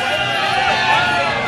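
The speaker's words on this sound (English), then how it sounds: "let me hear you cheer." A convention audience at PAX cheers loudly for Team Blue at a League of Legends event, a dense sustained roar of many voices filling the hall.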